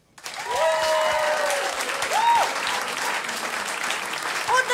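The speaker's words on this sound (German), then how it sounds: "Ein riesen Applaus für Felix!" An audience at a living-room concert applauds for musician Felix, with steady clapping and a few whistles and cheers that swell near the start and hold for several seconds.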